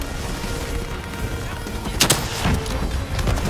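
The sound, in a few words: gunfire in video game Call of Duty Black Ops 3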